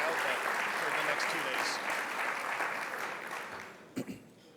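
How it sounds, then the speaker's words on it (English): Audience applause at a keynote event for a regional armed forces communications association, steady crowd clapping that gradually fades toward the end, followed by a brief bump of sound. "Please join me in a round of applause."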